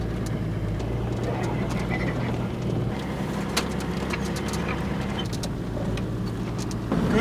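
Diesel Toyota Land Cruiser 80 Series grinding along a rough off-road track in the Arkansas Ozarks, a steady low engine drone with wind buffeting the microphone and occasional knocks and rattles, with voices talking over it.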